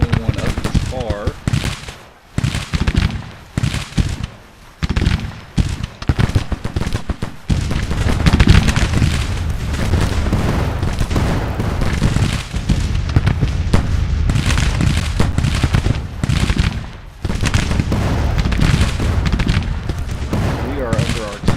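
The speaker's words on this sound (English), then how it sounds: "We are under artillery fire." Artillery booms and rifle fire roll across a Civil War battlefield in Grand Tactician: The Civil War, a dense continuous barrage of repeated thuds and crackling volleys with a few brief lulls, loud and close, with someone talking over parts of it.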